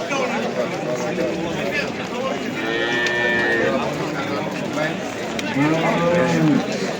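A hybrid cow moos loudly and nearby at a livestock market, several drawn-out calls across the span, over a busy background of people talking.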